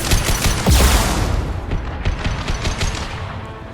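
An impact shot fires in the Mass Effect 2 video game: a loud, close blast and boom with a rattle of gunfire and echoing tail, alone without speech.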